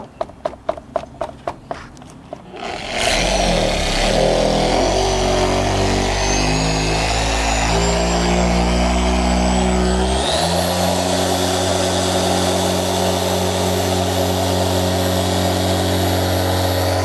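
A Griot's G8 mini orbital polisher starts after a few light clicks and handling taps, then runs as a loud, steady whirring drone with a rising high whine and a step up in speed midway, close and continuous.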